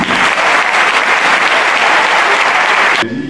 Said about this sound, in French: monsieur Ahmed Bakayoko, que je vous demande d'applaudir